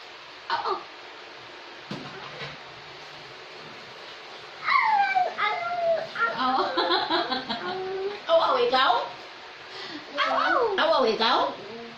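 A dog whimpers and yips over a bone in thin, wavering whines that rise and fall, close by, interspersed with short barks, with people talking and laughing in Filipino around it.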